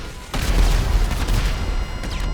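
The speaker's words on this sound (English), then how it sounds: "One missile took both bikes out there" A missile strike in a video game blows up two motorbikes beneath an arch, a loud booming explosion followed by rumbling debris and a few sharper secondary bangs.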